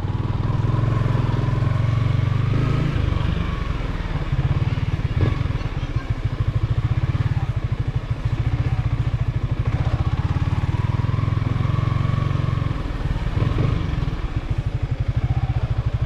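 A motorcycle engine running steadily while riding on a rough rural path, a deep continuous close-up drone with rattling and clatter, under intermittent talk from the rider.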